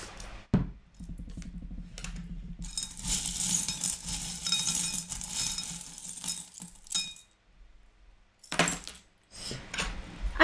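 Small metal charms clink and jangle as they are tossed and settle, bright scattered tinkling bursts separated by pauses, close and alone.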